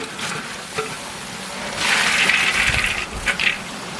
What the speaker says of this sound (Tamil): கிரேவியோட நல்லா கலந்து விட்டுக்கலாம்